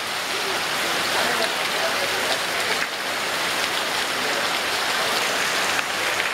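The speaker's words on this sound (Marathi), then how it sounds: "हा पाऊस अचानक आला, आता चांगलं ऊन पडलेलं आणि सडनली हा पाऊस, जोराचा वारा" Heavy, sudden village downpour with strong wind, a dense continuous roar of rain hitting surfaces close by, steady and loud throughout with no break.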